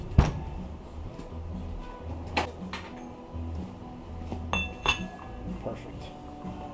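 Metal sockets clink and rattle as someone rummages through them during a 4L80E transmission rebuild, sharp scattered clinks and pings, close up, with a few low knocks between them.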